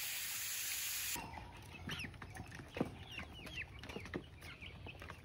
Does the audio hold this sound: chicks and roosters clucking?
yes